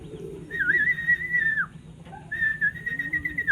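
Racing pigeons arriving at a loft during a 48 km race in Sta. Rosa, Laguna, with two clear whistle-like calls rising over a busy low rumble, separated by a short pause.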